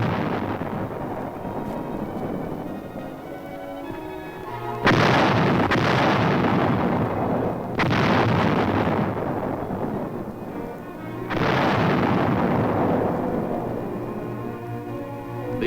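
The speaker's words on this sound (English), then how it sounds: "155 howitzers fire a sharp warning at the advancing Chinese" 155 mm howitzers firing in a Korean War newsreel from the grounds of the Capitol in Seoul: three heavy booming blasts spaced a few seconds apart, each rolling off into a long rumbling decay.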